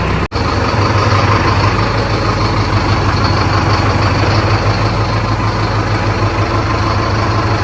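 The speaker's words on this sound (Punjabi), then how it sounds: "ਸੋਨਾਲੀਕਾ ਟਾਈਗਰ ਦਾ ਭਾਈ ਆਪਾਂ ਨੇ ਫਾਈਨਲੀ ਸਟਾਰਟ ਕਰਤਾ" A Sonalika Tiger 4x4 tractor engine idles close by with a steady, loud, low diesel rumble that holds even throughout, apart from one brief dropout near the start.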